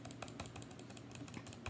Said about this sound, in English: I'm just gonna keep on clicking for a little bit